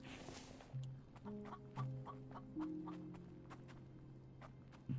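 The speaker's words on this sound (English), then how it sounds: "Chicken over there." Chickens clucking in an outdoor survival video game, a run of short repeated clucks and calls spread across the clip, fairly close and clear with no talk over them.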